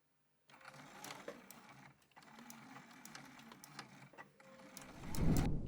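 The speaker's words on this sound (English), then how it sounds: "at the machine here, I am going to just sew along this top edge with a 1/2 inch seam allowance" A sewing machine runs steady stitching along the top edge of a fabric purse, with two short pauses, close and moderately loud, then a louder thump near the end.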